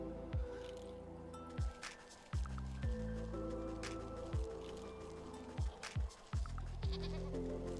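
Mountain goats bleating in the video game Wytchwood, several short nasal calls recurring in an uneven rhythm over a steady low ambient game soundscape, fairly close and clear.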